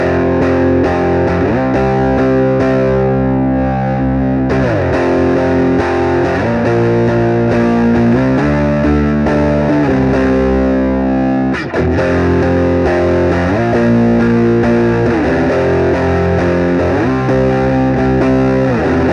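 An electric guitar played through an overdrive pedal as its gain knob is turned up, heavily distorted and chorused chords strummed in a repeating pattern, loud and continuous with no talking.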